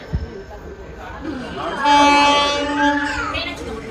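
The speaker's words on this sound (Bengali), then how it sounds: "আমাদের ট্রেন ঢুকছে," A train pulling into a station platform, rumbling along before a long, loud horn blast rises and fades, with a voice briefly heard among the station noise.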